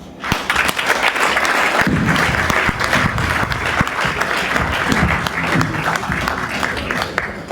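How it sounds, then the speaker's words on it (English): An audience at an evening awards ceremony applauds a speaker who has just finished a talk on stopping violence against women and children, a dense, sustained round of clapping filling the hall without pause. "Another round of applause for the speaker tonight"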